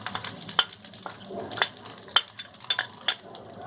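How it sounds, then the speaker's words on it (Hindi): Rice with fried eggs being stir fried on high flame, with a spatula scraping and clinking against the pan in irregular strokes over a low background sizzle, close and moderately loud, no talking. "हाई फ्लेम पर हम राइस को स्टर फ्राई करेंगे।"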